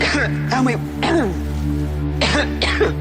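Several harsh coughs and throat clears come in short bursts, close and loud, over a steady low hum.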